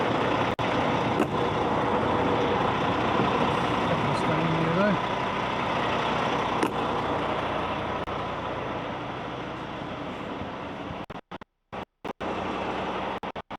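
A truck's air suspension winds down in a long, steady rumbling hiss with engine drone, close and loud, then cuts out into brief gaps near the end.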